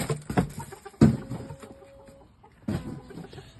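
Shamo game fowl rooster gives a few short clucks in separate bursts, close and fairly quiet, with brief gaps of near silence between them.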